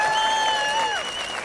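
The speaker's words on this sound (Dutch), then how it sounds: "ook graag een applaus voor Tessie Moerenhout." A festival crowd at an open-air stage event applauds with steady clapping, while a sustained tonal sound rides over the claps before dropping away.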